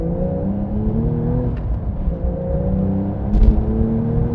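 A 2021 Porsche 911 992 Carrera GTS engine pulls steadily along an open A road, a continuous close drone with rising harmonic tones and a brief swell of rumble near the end.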